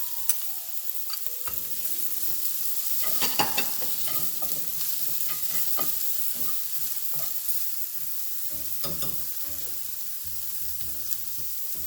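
Carrots go into a stir-fry pan where onions are already sweating, giving a steady sizzle with scraping and clacking stirring strokes and a few sharp clinks from a utensil on the pan, up close with no talking.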